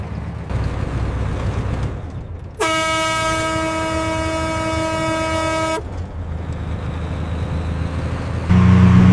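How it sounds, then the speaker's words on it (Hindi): Truck air horn on a road, one long loud sustained blast of about three seconds cutting over steady engine and traffic rumble, followed by continued road noise. "हॉर्न दो"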